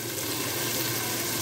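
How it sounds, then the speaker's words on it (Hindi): Water splashed into frying masala of ground spices and medium tomatoes for an egg and chana dal fry, giving a steady, close, moderately loud sizzle with no talk. "थोड़ा सा पानी का छींटा।"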